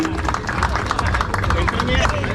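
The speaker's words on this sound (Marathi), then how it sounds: "सर्वांनी जोरदार टाळ्या वाजवतात निखिलजी मेडेकर यांच्यासाठी" An audience at a cricket player auction in Lower Parel, Mumbai claps for an iconic player, with brisk overlapping handclaps mixed into crowd chatter and a voice talking over them.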